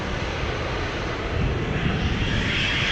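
A KLM Embraer 190 jet departs Amsterdam Schiphol bound for Gdansk, its engines a loud steady roar heard up close, building slightly toward the end.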